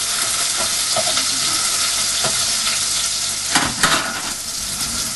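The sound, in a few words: onions frying and being stirred in a pan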